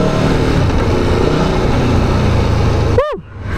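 An Aprilia Tuono V4 Factory 1000cc sportbike engine on stock exhaust hums and growls loudly and steadily up close, then a quick sharp rev blips at the end before dropping off.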